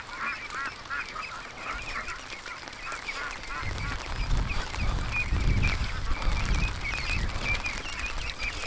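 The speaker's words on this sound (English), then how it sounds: "Come on, ducks." A group of ducks calls out on a rainy day in a repeated run of nasal honks and quacks. The calls are close and fairly loud over a steady background hiss.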